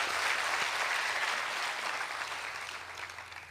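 A crowd at a motivational speech breaks into loud, sustained applause for an organising team, dense clapping throughout that slowly eases toward the end.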